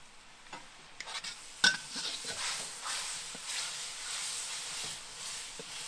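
Thin-sliced red pepper is stir-fried in a wok on a Big Green Egg, giving a soft sizzle that swells after a sharp metallic clink, with scraping stirs and no talking.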